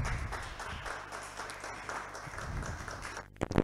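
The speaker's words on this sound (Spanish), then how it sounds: "Quienes estamos aquí, acompañamos con el aplauso" A small group claps at a museum plaque unveiling. The applause is sparse and modest over a low background hum, then breaks off near the end into a brief louder clatter.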